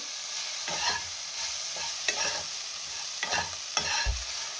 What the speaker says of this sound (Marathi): मीठ घातल्यावर मी पुन्हा सगळं व्यवस्थित मिक्स करून घेतलेलं आहे